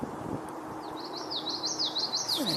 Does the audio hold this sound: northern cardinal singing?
yes